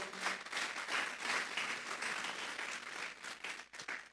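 A church congregation applauding, steady dense clapping throughout, moderately distant and fairly quiet, with no talking over it.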